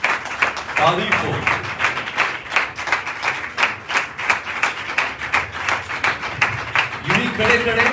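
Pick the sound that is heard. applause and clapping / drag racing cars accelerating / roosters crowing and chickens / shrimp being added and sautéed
applause and clapping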